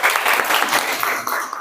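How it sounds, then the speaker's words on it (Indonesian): Audience applause at a teacher performance assessment session in Jember, a steady dense wash of many hands clapping at moderate loudness, fading slightly toward the end. "Tepuk tangan."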